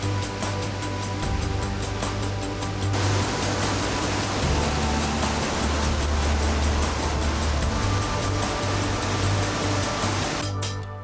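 Roar of a multi-tiered waterfall near Shillong, a constant loud broadband rush of falling water, close and unbroken, with no voices.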